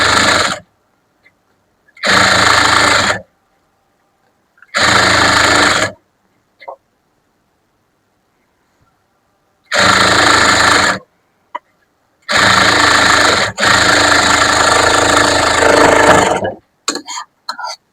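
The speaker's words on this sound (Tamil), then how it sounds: "நம்ம டபுள் தையல் போட்டு முடிச்சாச்சு" Sewing machine running in bursts while stitching a double seam on churidar pants, with several loud whirring runs of one to three seconds separated by silent pauses and a few small clicks.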